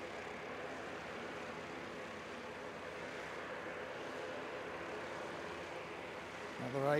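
An ATR turboprop airliner taxis at Christchurch airport, its engine drone a steady, moderately distant rumble that builds slightly near the end, with faint talk underneath.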